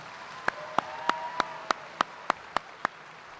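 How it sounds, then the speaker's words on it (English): A single pair of hands claps close by in a steady rhythm, about ten sharp claps, over a faint hum. The occasion is applause for school district staff at the Edgewood High School 2018 commencement in an arena. "Please give everybody a round of applause."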